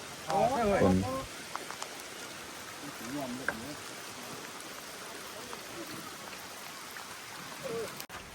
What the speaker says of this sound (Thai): ตอนฝนตกนะพี่น้อง